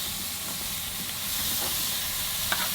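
Marinated Asian-style ribeye skewers sear on a hot grill, making a continuous broad hiss that swells slightly partway through, with a faint tap near the end.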